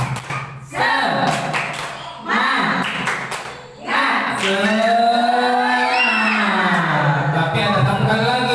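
Teachers at a school training session in Cirebon doing a group spirit clap, with bursts of claps and shouted chanting, then sustained loud group singing or chanting with voices over it.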